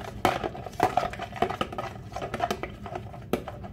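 Bread dough ingredients, including yeast, are mixed by hand in a bowl, giving a close, irregular run of scraping and clinking strokes from a utensil against the bowl, with no talk.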